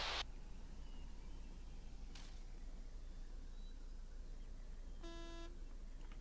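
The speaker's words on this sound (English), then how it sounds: "Horn? I hear honking." A Humvee horn honks once in the Half-Life: Badlands video game, a short harsh buzzing blare heard faintly at a distance over a steady low rumble and hiss, following a couple of brief noise bursts.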